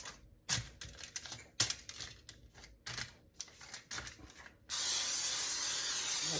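Several bursts of clicking, rattling handling sounds give way to a loud, steady hiss of an aerosol cooking spray lasting a couple of seconds.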